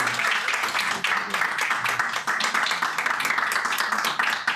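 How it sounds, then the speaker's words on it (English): An audience claps to welcome Dr. Castellanos at a mindfulness talk, a dense, steady patter of many hands that keeps going without a break for the whole stretch and sounds fairly close. "Let's give Dr. Castellanos a big round of applause."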